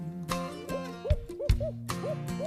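Owl hoots repeating in a steady series of short, rounded calls, fairly close, with no talking.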